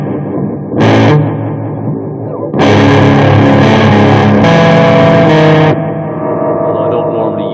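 Electric guitar played through a Walrus Audio ARP 87 delay pedal combined with distortion: loud, saturated bursts with trailing repeats, separated by quieter sustained passages.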